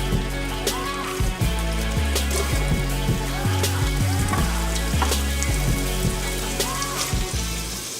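Pound of Portuguese linguica sausage browning in a pan, a steady loud sizzle and crackle with scattered pops and scraping stirs, an occasional low thump from the pan, no talking.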